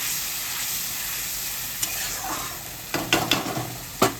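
An egg dish fries in a pan with a constant bright sizzle, and a few clattering spoon-on-pan stirs break in near the end.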